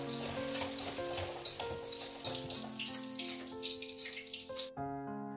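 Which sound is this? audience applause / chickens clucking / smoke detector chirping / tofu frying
tofu frying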